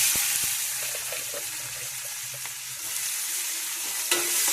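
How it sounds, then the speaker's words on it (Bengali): Chopped onion fries in oil with black cumin seeds and chili, a loud continuous sizzle with a spatula stirring and scraping through the pan. "পেঁয়াজটা একটু ভালোভাবে একটু হালকা ভেজে নেবো।"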